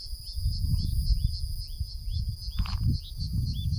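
Birds chirp in the quiet Uttarakhand hills near the Dunagiri temple. Their repeated high calls sound moderately distant over a steady low rumble of wind or background noise, with one brief louder call.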